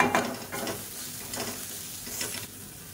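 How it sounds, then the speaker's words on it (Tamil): Coriander leaves sauté in a pan for chutney, with a continuous sizzle broken by regular scraping bursts as the spatula stirs them through. "கொத்தமல்லி சேர்த்துட்டு நல்லா வதக்கி விட்டுக்கலாம்"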